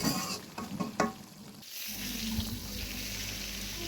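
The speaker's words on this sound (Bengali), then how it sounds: "প্রথমে আমি মাছগুলো ভেজে নিচ্ছি।" Koi fish fry in a wok, starting with a few stirring clatters and then settling into a loud, steady sizzle heard up close.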